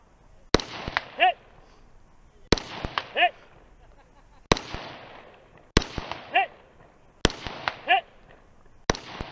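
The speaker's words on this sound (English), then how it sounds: "shooting the first target, the second target, the first target, the second target" Gunshots ring out at targets during an Arizona two-gun competition stage: sharp, loud cracks in quick clusters of three or four, repeating about every two seconds, with a voice talking between the shots.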